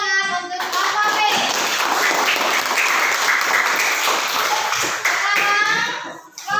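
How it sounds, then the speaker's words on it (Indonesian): Classroom applause for a student group, a dense, loud burst of many hands clapping together that lasts several seconds, with children's voices mixed in before it fades. "Coba beri tepuk tangan untuk kelompok B."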